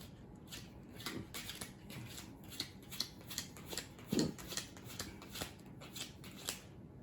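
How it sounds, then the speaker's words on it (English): Playing cards from the board game CATsle Builders being pulled out and dealt, a string of quick, light snapping and sliding flicks at a fairly steady rhythm, close and quiet, with no talk. "So it sounds of me pulling out cards here."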